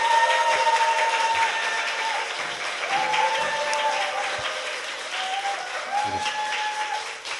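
Applause from a studio audience at a Korean talk show runs throughout, steady and fairly loud, with a few tonal whistle-like sounds and faint voices underneath.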